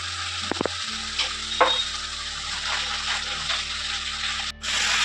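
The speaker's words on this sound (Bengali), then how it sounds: "এবার আমি মশলাটাকে ভালো করে কষিয়ে নেব।" Spice paste with Kashmiri chili powder and salt fries in a pan for a katla fish kaliya, giving a close, continuous sizzle with a few sharp scraping stirs near the start and a brief dip near the end, no talking.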